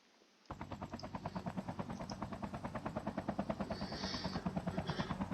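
A helicopter in Call of Duty Mobile, its rotor thumping in a fast, steady rhythm, starting abruptly and holding close and loud with a whining engine underneath.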